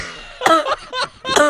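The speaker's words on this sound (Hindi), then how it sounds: "अरे तेरी खांसी ने तो जीना हराम कर दिया।" A man coughs several times in quick, harsh bursts, loud and close, with brief pauses between.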